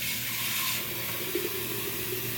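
Water runs steadily from a tap into a flower vase, a continuous close hiss and splash with a slight change in tone as it fills, with no one talking.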